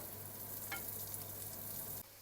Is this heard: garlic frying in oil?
yes